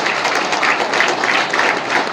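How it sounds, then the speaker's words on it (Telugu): Audience applause at a ceremony for the 55th annual safety fortnight celebrations: steady, dense clapping from a crowd, sustained evenly at a moderate level throughout with no pauses. "చప్పట్లు మళ్ళా తగ్గినాయి."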